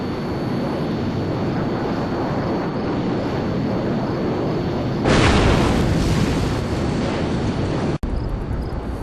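A satchel charge explodes in the military video game Arma: a loud, broad boom rumbles in halfway through over constant wind-like ambience, followed later by a single sharp crack.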